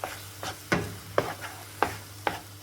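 Scrambled eggs being stirred in a pan, giving about six soft scraping strokes at an irregular, unhurried pace with a faint sizzle underneath, close and fairly quiet, no talking.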